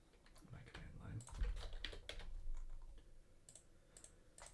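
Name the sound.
typing on a computer keyboard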